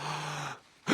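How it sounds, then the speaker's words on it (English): A long, deep breath drawn in for a stethoscope check in a children's cartoon, a steady airy inhale that fades to near silence before a sharp, louder burst of breath at the end. "I don't like the sound of that breathing."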